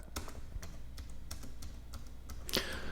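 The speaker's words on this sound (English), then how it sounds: "they have almost like a mechanical click at the very end of the action" ASUS ROG Strix Scar 17 laptop keys being typed on, a steady run of soft clicks with a sharper mechanical snap at the end, close up and with no voices.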